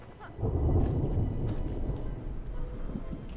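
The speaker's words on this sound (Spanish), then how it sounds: "Se acerca una tormenta, busca refugio" A thunderstorm in the survival video game Smalland, a deep rolling thunder rumble swelling over steady rain, loud and close, with no talk.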